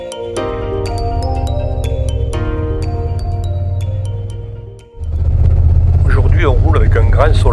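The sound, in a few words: motorcycle riding on a road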